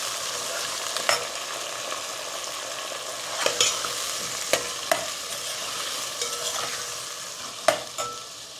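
Soya biryani with rice being stirred in a pan, a sizzling bed under repeated scraping clicks from the spoon at irregular intervals, no talking.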